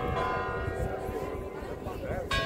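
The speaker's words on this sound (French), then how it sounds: "Voilà, les cloches." Church bells ring with a sustained tone in the background while a voice talks over them.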